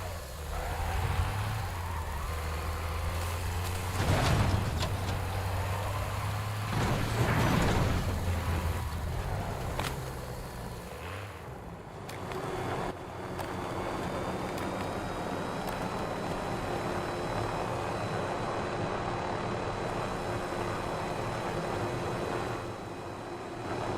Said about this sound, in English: We're gonna get this chopper.